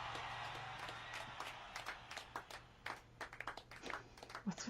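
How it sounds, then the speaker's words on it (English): Scattered, uneven claps ring out from a live concert audience over a bed of crowd noise, growing sparser and more sporadic toward the end. "what's with the random claps?"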